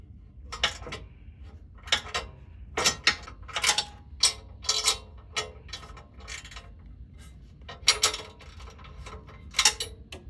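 Socket wrench with a 3-inch extension and wobble joint turning nuts on the EGR pipe of an Acura TLX exhaust, a close series of short ratcheting clicks in irregular bursts with brief pauses.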